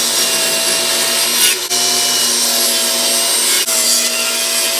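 A power saw, likely a bandsaw, cuts the corners off a wooden bowl blank in a steady, loud, continuous whine, with two brief breaks as each cut finishes.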